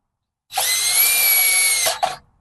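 A power drill drives screws into a keypad lock on a commercial glass door, giving a loud, close, high steady whine for about a second and a half, then a couple of short bursts as it stops.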